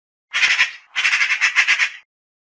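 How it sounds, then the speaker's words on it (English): A magpie gives a loud, close rattling chatter in two bursts, a short one followed by a longer run of rapid harsh notes. "Magpie."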